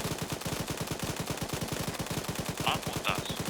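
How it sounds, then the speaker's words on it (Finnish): Sustained automatic fire in the military game ArmA, likely from a PKT machine gun, rattles as a fast, even stream of shots, with faint radio-like beeps near the end. "Ammunta kuluu Eastistä"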